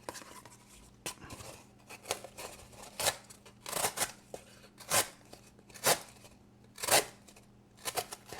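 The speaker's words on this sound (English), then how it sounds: "I'm cutting through a label too on purpose." A Kizer Parakeet small folding EDC knife slicing through a label, giving a series of short, crisp scraping cuts at a steady, uneven pace, close up and fairly quiet with no talking.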